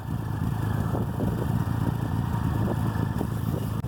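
A motorcycle engine runs steadily in snowy conditions, a loud continuous low rumble close by with no voices.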